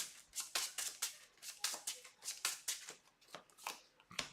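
A single deck of playing cards being shuffled at a tabletop card game, a quick run of crisp riffling bursts in steady rhythm, close and fairly quiet, with no talk over it.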